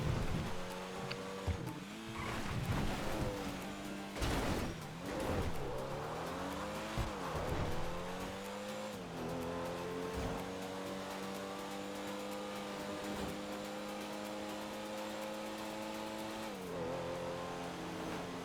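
Car driving in GTA V Online, with a Comet S2 Cabrio, a continuous engine drone rising and falling with revving and tire squeals in the first half, then settling into a steady cruise.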